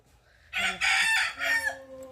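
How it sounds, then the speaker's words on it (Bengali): A rooster crows once in a home garden, a single loud, close cock-a-doodle-doo in several rising and falling segments that lasts just over a second, then stops. "আর আমাদের মোরগটা দেখো এরকম চিল্লাচ্ছে।"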